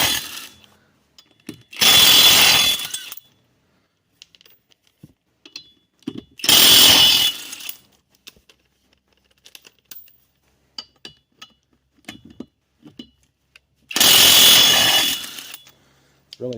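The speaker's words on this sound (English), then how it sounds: "It's really nice to have an impact wrench." A Harbor Freight cordless impact wrench removes lug nuts from the wheel of a 2008 Buick Lacrosse CX. Three separate loud, close bursts of about a second each are spaced by quiet gaps with small clinks and handling noises.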